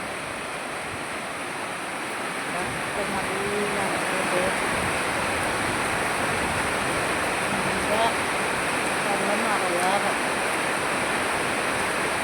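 A downpour in Ernakulam, Kerala, roars as a constant broadband wash, with faint, distant voices briefly surfacing beneath it.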